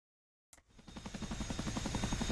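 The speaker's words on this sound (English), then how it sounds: "Harpier's Yurkina making a gentle landing here in the Chinook" Chinook helicopter landing: after a moment of silence, a rotor thump starts and builds into a steady, rapid, fairly close beat that grows louder, with no voices.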